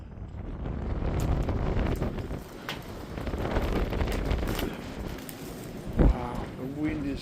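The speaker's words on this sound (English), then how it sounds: "the wind is just blowing through the whole house" Wind rushes through an old, abandoned 16th-century farmhouse in open countryside, a steady broadband roar with gusty swells buffeting the microphone and a brief knock near the end.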